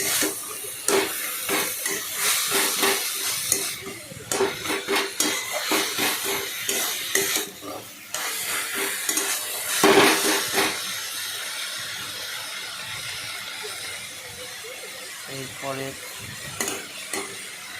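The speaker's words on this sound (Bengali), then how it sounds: "পোস্ত দিলাম চারিদিকে ছিটিয়ে দিলাম দিয়ে ভালো করে নাড়াচাড়া করলাম" Poppy seeds are stirred into red amaranth greens in a hot pan, with repeated scraping strokes over a steady hiss and sizzle and a few clinks of utensil on pan.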